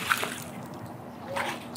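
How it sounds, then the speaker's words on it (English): A small saltwater fish caught off a dock on a fiddler crab bait is dropped back into the water, giving a short splash near the start and a softer slosh later, with faint talk around it. "Let's put him back in the water."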